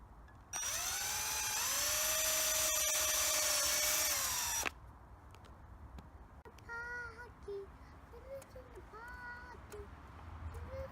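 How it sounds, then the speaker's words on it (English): A power drill drives a screw into a kitchen worktop being built into a corner desk, whining loudly and steadily for about four seconds before stopping abruptly; a person then talks nearby. "So I've now got 3 screws screwed in"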